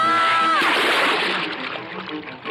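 Someone is thrown into water with a sudden loud splash that churns and sloshes before settling, as a voice cries out just beforehand.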